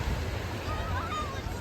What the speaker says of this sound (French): Mais les vagues aujourd'hui sont quand même très tranquilles.